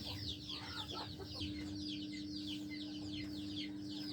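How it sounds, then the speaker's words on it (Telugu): Hens cluck in a busy, overlapping chorus throughout, with a steady low hum running underneath. "ఆడది గుడ్డు పెట్టడానికి వెళ్ళినప్పుడు పైనుంచి ఎక్కువ శబ్దాలు"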